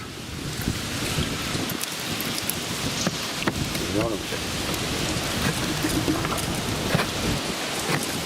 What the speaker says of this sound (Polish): Ale to zobacz, jaki przewiew wiatru jest.